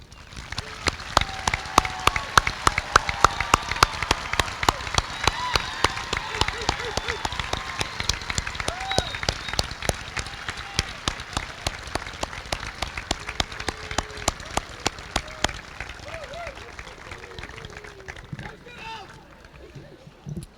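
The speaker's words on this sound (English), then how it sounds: "Students, parents, and guests, please join me in applauding this remarkable group of individuals." Graduation audience of students, parents and guests at a South Gibson commencement applauding the graduates, a long, loud wash of many hands clapping that gradually thins and fades toward the end.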